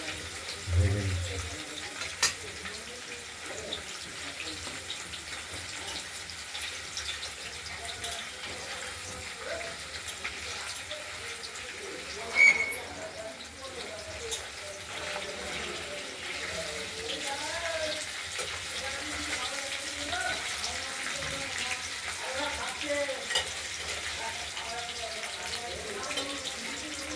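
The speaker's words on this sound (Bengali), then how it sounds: "পনিরগুলো ভালো করে আমরা একটু ভেজে নেব।" Paneer fries in a pan with a steady, soft, continuous sizzle, joined briefly by a clatter partway through, while someone speaks over it.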